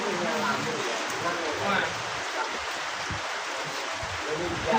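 Steady rain falls throughout, a dense hiss of drops on surfaces close by, while people chat in Javanese and Indonesian over it.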